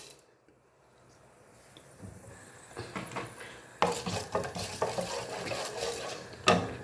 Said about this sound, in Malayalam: എണ്ണ ചൂടായിട്ട് നമുക്ക് ഉലുവായിട്ട് കൊടുക്കാം